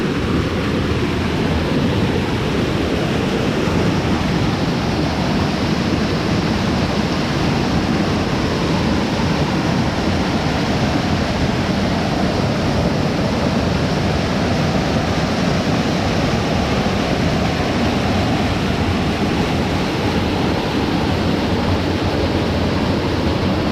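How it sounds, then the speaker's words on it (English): A small stream with a little waterfall, running high after 32 mm of heavy rain, roars as a constant, dense rush of water. It stays loud and close for the whole stretch, with no pauses or voices. "Now we've got a real stream with a nice little waterfall"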